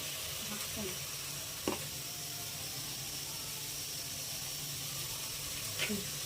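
Freshly ground garam masala is stirred into food frying in a pan, a faint, steady sizzle broken by a couple of sharp spoon clicks.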